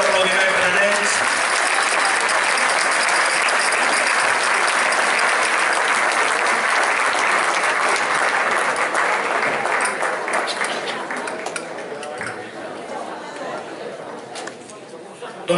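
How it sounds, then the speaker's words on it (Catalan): A crowd applauding a dance group at a community gathering in Cervera, loud sustained clapping mixed with chatter and some voices, tapering off near the end. "un fort aplaudiment per a ells."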